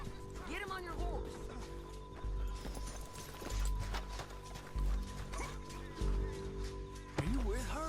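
Horse hooves clip-clop at a trot beneath overlapping voices in Red Dead Redemption 2, with a horse whinnying near the end over a busy game soundscape.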